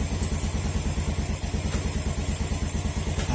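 A Euro RKS150 motorcycle with a freshly serviced clutch idles close by, its single engine chugging in a fast, even pulsing rhythm with mechanical clatter throughout.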